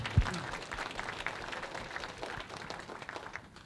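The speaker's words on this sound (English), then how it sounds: "why don't we give James Murray of Net New Ledger a round of applause for live streaming this event for us today" Audience at an education symposium applauds for several seconds, a dense steady patter of clapping that slowly thins toward the end, with no one speaking over it.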